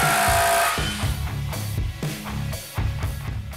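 A DeWALT impact drill twisting a drill bit in a torque test, a loud close buzzing hammer-whir that shifts and stutters through several bursts with gritty metallic strain.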